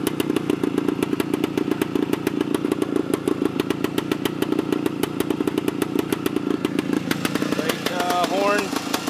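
A 1972 Yamaha RT2 360 motorcycle engine idles close by, a steady loud two-stroke putter with a fast even rhythm that briefly rises near the end.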